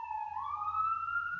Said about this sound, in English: the background sound of the ambulance passing by my window